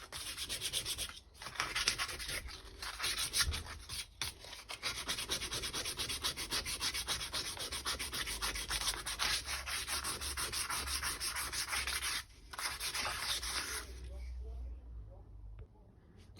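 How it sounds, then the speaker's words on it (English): A wooden screwdriver handle is sanded by hand in long, steady rasping strokes, close up and continuous with a few brief pauses, fading near the end. "So basically I'm just sanding until I get it nice and smooth"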